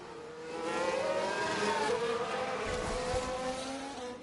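A Mercedes Formula 1 car engine in the F1 Manager 22 racing game on PS5 at Baku, a high-pitched whine that swells as the car passes and then fades, with no one talking.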